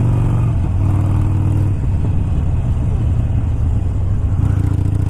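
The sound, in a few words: 2019 Harley Davidson Sportster motorcycle accelerating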